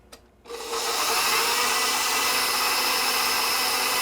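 An electric meat grinder set to a coarse plate starts up and grinds pork for cabbage rolls, running as a loud, steady motor whir with gritty churning, close by after a quiet moment.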